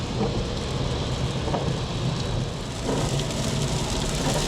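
Steady rain drumming on a car while driving in Maryland, a dense, loud, continuous wash of noise with low rumbling throughout and no talk.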